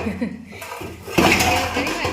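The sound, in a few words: heavy pots and pans clattering while being washed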